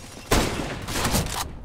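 Counter-Strike gunfire on the Mirage map, a sudden loud burst that kicks in and carries on as a rapid string of shots for over a second before cutting off.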